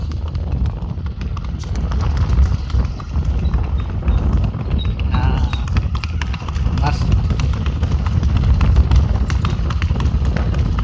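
A horse's hooves clip-clop steadily outdoors as it is ridden on a Punjab farm, a loud continuous rhythm of hoofbeats running under a man's speech throughout.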